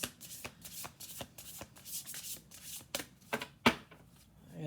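Playing cards are riffled and bridged in quick repeated bursts, close and crisp, with short pauses between shuffles.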